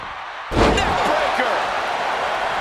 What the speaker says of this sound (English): Hooked up and backdrop suplex.